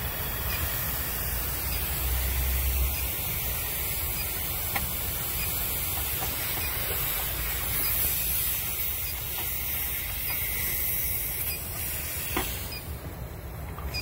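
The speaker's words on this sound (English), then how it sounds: "Now we're going to blow some nitrogen through the high side." Nitrogen blows through the high side of an R290 propane refrigeration system, a steady soft hiss of rushing gas that runs continuously for about fourteen seconds at moderate level, with no voices.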